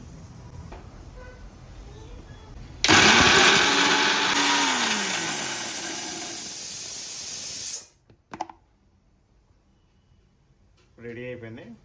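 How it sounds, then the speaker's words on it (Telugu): A mixer grinder loudly whirs for about five seconds as it grinds masala with cinnamon, then stops abruptly, followed by brief clicks and a voice speaking. "కొంచెం దాల్చిన చెక్క వేసి మిక్సీ పట్టుకోవాలి"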